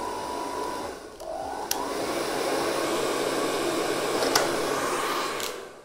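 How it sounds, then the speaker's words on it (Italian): A hair dryer roars steadily at close range, a continuous airy whoosh with a couple of brief clicks and shifts in tone. "vado ad accendere il phon"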